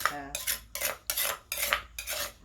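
Metal utensil scraping the bottom of a cooking pot while serving Thai food, five or six loud, rough, even strokes in steady rhythm, close up with no talking.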